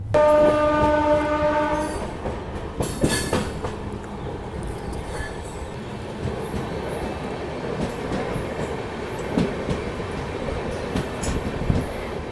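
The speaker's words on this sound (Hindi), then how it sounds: "नई दिल्ली से ग्वालियर नॉन स्टॉप ट्रेन चल रही है" The Bilaspur Rajdhani Express runs nonstop on its way from New Delhi toward Gwalior, heard from inside. A horn sounds briefly at the start, then a continuous rumble with rhythmic wheel clatter carries on to the end.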